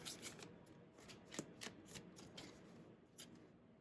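Tarot cards being shuffled repeatedly, a steady papery riffling with a few sharper snaps, close and fairly quiet, no voices.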